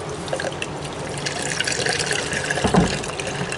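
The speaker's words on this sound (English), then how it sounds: "Water is on." Water running from a hose into a washer at an outdoor laundromat, a steady close trickling and filling sound with a brief louder splash, no speech.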